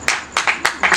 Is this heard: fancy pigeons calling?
no